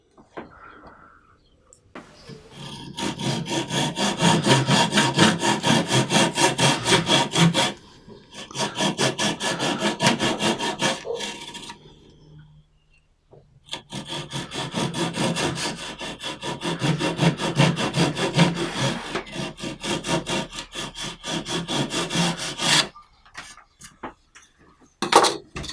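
A handmade wooden bow saw cuts through a wooden workpiece along a curve, its strokes rasping in steady back-and-forth rhythm, loud and close, in two long bursts separated by a brief pause.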